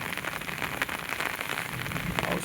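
Returning monsoon rain in the Konkan countryside near rice and turmeric fields, a dense steady patter of drops on surfaces, continuous and fairly close, with no voices.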